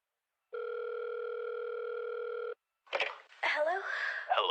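A telephone gives one steady electronic ring tone for about two seconds, then stops as voices start talking.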